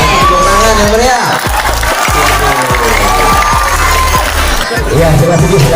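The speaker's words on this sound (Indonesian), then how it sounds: "Tepuk tangan yang meriah." A school crowd at an SMPN 2 Kemang Youth Pledge Day event gives loud, dense applause with cheering and children shouting, and voices carry through the roar.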